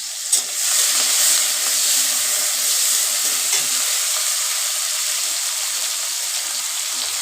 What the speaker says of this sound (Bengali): লবণ হলুদ মাখিয়ে চিংড়ি মাছগুলো ভালো করে ভেজে নিব